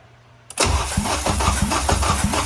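A K24 engine swapped into a Honda Civic EG cranks over after a quiet moment, a loud close starter whir with a rhythmic chug of compression pulses that does not catch.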